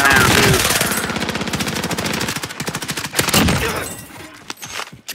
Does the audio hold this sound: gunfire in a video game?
yes